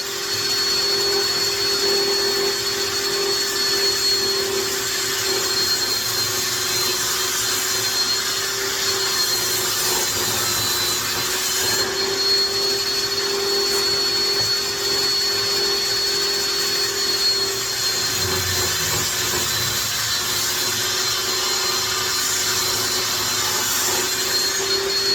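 A table saw blade shaving about a sixteenth of an inch off wood to bring frame end bar sidebars to final width, a steady loud whine running throughout with a constant motor tone and no talk.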